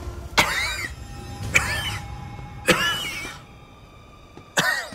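A man coughs in four harsh, separate bursts spaced about a second apart, close and loud, in a quiet room.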